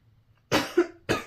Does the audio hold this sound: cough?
yes